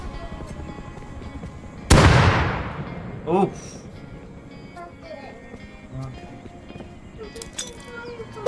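A thrown grenade detonates in the survival game Rust, one sudden loud blast with a long decaying rumble, followed by fainter scattered clanks and pops over low game ambience.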